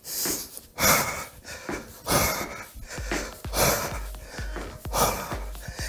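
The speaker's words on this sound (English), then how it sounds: "Big deep breaths. Make sure you're breathing." Heavy, deep breaths during a bodyweight home workout come in strong rhythmic bursts about once a second, close and loud, with sharp inhales and forceful exhales.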